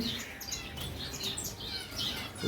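Small high chirps and tweets from a breeding pair of parrots kept in a roomy cage, faint and scattered over a steady low background hum.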